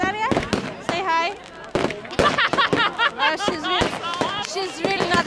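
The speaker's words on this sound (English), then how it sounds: "The whole city is full of fireworks." Fireworks bursting over Vienna at night, a rapid run of loud sharp cracks and bangs close by, with excited voices and chatter running underneath throughout.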